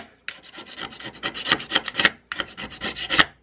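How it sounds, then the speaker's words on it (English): A razor blade knife is scraped to remove old hardened epoxy, giving repeated rough rasping strokes in two bursts separated by a brief pause, close and fairly loud with no voices. "I'm scraping most of the old stuff off of this razor blade knife."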